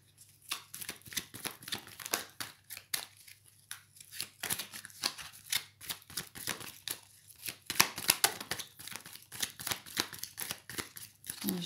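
Tarot cards shuffled and drawn from a deck, heard close as a dense run of crisp snaps, flicks and papery rustles in uneven bursts over a low steady hum.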